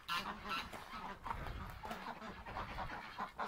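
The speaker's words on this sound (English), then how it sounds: "Ducks, you're so silly." Ducks calling in agitated, alarmed bursts, upset by a snapping turtle in a nearby bathtub, with several overlapping honking quacks at close range and fairly loud throughout.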